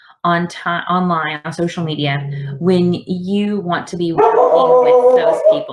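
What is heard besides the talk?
dog barking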